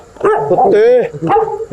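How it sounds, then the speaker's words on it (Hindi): A dog barks several times, close and loud, at a Janmashtami festival outdoors, with a human voice overlapping the barks. "कुत्ते"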